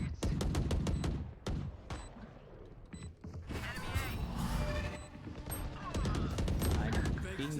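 Gunfire in the Valorant shooter game rattles out as rapid bursts of loud shots, close and repeated, with pauses between volleys and talking mixed in.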